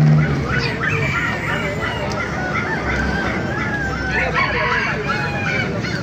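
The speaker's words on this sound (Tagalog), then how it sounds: "Nakita ko sa inyo mga manok panabong dito." Fighting roosters crow repeatedly amid a noisy crowd of fowl at a market, with voices chattering in the background and a constant outdoor din.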